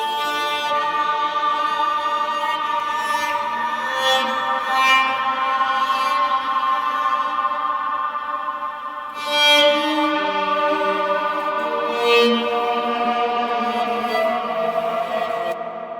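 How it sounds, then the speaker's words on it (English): A dark, ambient, drawn-out cello sample with long sustained tones that slowly shift pitch, steady and fairly loud throughout with a few swelling accents, heard alone without talk. "So this is like a cello sound."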